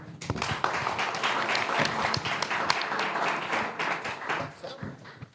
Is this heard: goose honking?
no